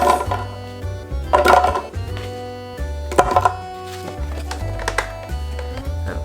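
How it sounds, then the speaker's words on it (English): A blender on its lowest setting crushes Oreo cookies in loud, choppy bursts, whirring in pulses of a second or two with brief pauses between them. "We don't have a food processor, we have a blender, and I think that'll do just fine. I'll just do it on the lowest setting"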